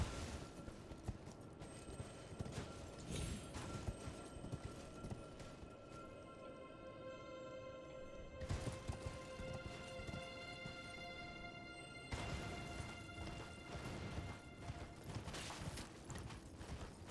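A horse gallops in the video game Elden Ring with rapid, continuous hoofbeats, a faint whinny and clattering game effects layered in, fairly quiet throughout.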